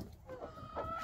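Chickens cluck in a coop after a snowstorm while being given water, soft scattered clucks fairly faint against low background rumble.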